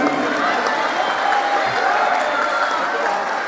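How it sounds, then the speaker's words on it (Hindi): An audience at a gathering with a guru claps in a dense, even wash of applause that holds at a steady level throughout. "इनके लिए एक बार तालियां।"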